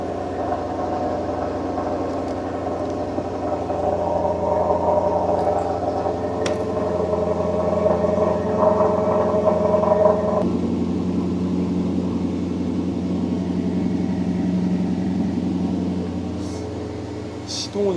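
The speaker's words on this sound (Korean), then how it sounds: "네, 일단 시동이 걸렸습니다." A Maserati Quattroporte M139 engine idles steadily after a jump start, a low continuous hum with slight vibration close by that eases to a softer tone partway through, while a person talks over it.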